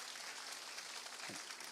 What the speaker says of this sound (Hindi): ताली बजा दें इनके लिए।